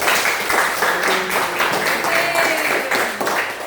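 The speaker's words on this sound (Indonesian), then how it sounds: "Tepuk tangan." Students clap their hands together in a classroom, a lively scattered round of applause with a teacher's voice and children's voices mixed in.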